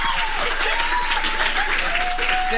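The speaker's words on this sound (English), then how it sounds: "give her a round of applause" Audience applause for a woman professor after a lecture on faith and religious identification in African development: dense, steady clapping from a seated crowd, loud and continuous throughout.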